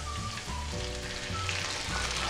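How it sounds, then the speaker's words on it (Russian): Wine poured into a hot pan of golden fried onions sets off a loud, steady sizzle that holds for a couple of seconds, with no talking. "Выливаю сюда вино."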